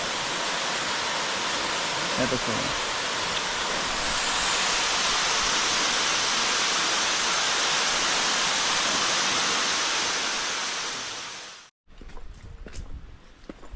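A waterfall on an island thunders as a loud, steady broadband roar for nearly twelve seconds, then cuts off abruptly, leaving quieter ambient sound and a brief spoken phrase.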